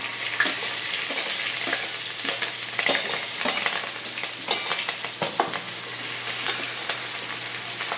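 Chopped garlic, ginger and green chillies frying in hot oil with asafoetida for noodles, a loud dense sizzle crackling continuously with scattered spits and pops, close up and without any talking.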